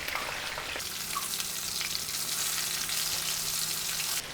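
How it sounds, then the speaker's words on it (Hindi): Fish fries in hot oil in a pan over a medium flame, giving a dense, steady crackling sizzle that swells loudly and holds close and continuous, with no talking. "साथ ही हमारी मछली भी फ्राई हो रही है"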